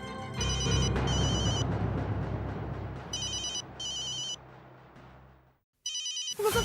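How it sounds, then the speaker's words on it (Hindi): An electronic telephone ringtone trills in repeated bursts with short pauses between, alongside a low hum of background noise. "बबीता जी का फोन है।"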